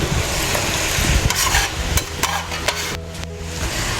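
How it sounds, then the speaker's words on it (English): Fresh corn kernels tumble into a pot of golden potatoes for chowder, a sustained clattering rustle with a few sharper knocks, then the pouring stops and settles into quieter taps. "And then the fresh corn, we're going to dump that in."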